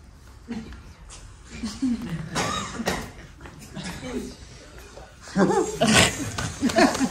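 On a cabaret stage, a performer's voice imitates a lion's roar in several loud, growling bursts mixed with speech-like sounds, with the strongest roars near the end.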